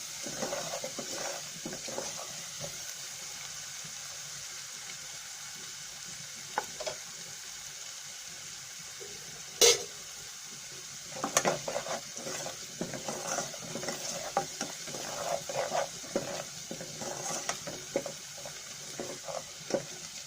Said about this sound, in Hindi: अब लहसुन और जीरे को मैंने फ्राई कर लिया।